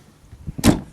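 The rusty near-side door of a Land Rover Defender 110 300Tdi station wagon slams shut with one solid, close thump, preceded by faint latch clicks.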